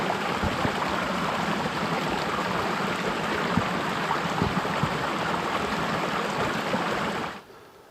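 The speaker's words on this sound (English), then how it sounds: "There are streams coming down everywhere with beautiful, fresh, clean, cold mountain water." Cold mountain stream rushing steadily close by, a continuous broadband wash of flowing water that holds level for about seven seconds before cutting off abruptly, with no voices.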